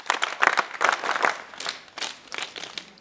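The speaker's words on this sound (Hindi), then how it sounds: "एक साथ हाथ ऊपर लहराएं स्वागत ताली बजा" Students at a scout and guide welcome gathering give a round of clapping, a burst of many hands slapping unevenly, fairly soft and close, fading in and out over a few seconds with no talk.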